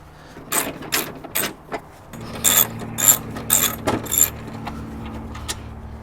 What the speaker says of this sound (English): Using my 10mm socket, I'm going to remove these bolts at the top.